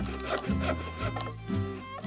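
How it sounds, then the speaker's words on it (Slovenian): Wood being sawn for a children's craft scene, a steady back-and-forth rasping in regular strokes, close and fairly loud, with no voices over it. "So žagali, brusili, dolgli, rezali, zvijali."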